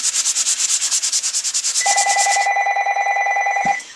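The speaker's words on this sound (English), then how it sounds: "So I'm just going to bring in my sanding block." Rapid rhythmic rasp of a sanding block rubbed back and forth on wood, close and loud, joined halfway by a steady electronic telephone ring that overlaps the strokes until both stop.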